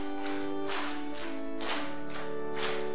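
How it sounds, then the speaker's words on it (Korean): A church congregation claps along in a steady rhythm, bursts roughly every second, over sustained singing or accompanying music. "우리 박수 치면 좋겠습니다"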